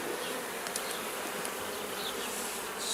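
A dense, steady buzz of many honey bees fills the air during a routine hive inspection, close and unbroken throughout, with a few brief sharper tones from individual bees flying past; no talking.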